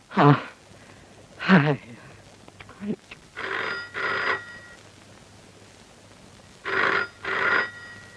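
An old landline telephone rings for a long-distance trunk call from Kannur: two short bursts of bell ringing, a pause, then two more, with brief speech-like sounds between the rings.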